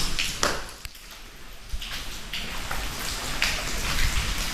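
Rain falls on a hillside area near Perla, Kasaragod, a steady close patter of drops with sharper pings, captured on a GoPro Hero 10.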